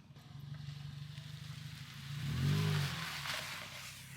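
A car engine hums at low revs as a younger brother drives for the first time, swelling briefly toward the middle before settling, faint and muffled from inside the car.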